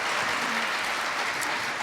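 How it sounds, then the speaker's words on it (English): Steady crowd applause at an awards ceremony fills the whole moment, a dense even patter of many hands clapping with no voices standing out. "let's give another round of applause for all our sponsors, please"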